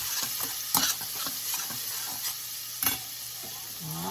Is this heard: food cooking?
yes